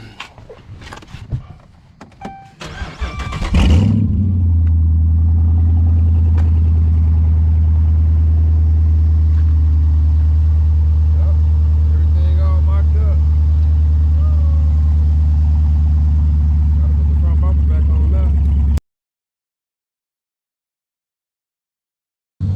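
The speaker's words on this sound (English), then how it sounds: "We're gonna cut the car on so the DRLs can cut on." A 2011-14 Dodge Charger engine cranks and catches after a few seconds of clatter, then settles into a steady, loud low idle that stops abruptly, followed by silence.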